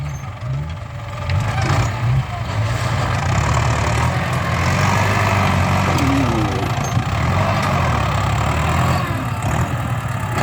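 Ten-horsepower four-cylinder direct injection Power Star tractor engine running steadily at close range, a continuous low rumble with slight shifts in pitch, no voices.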